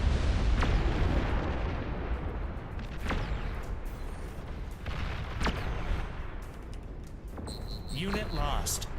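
Heavy booms from nuclear bomber strikes in the real-time strategy game Beyond All Reason, several large blasts rolling over a constant battle rumble while someone talks.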